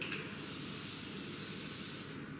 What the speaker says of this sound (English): So I take this Morphe Setting Spray